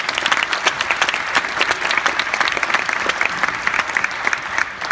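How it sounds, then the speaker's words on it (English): An audience at a ThinkFest talk event in Philadelphia gives the speakers a round of applause, loud continuous clapping from a large crowd lasting the whole stretch. "Have a round of applause for them."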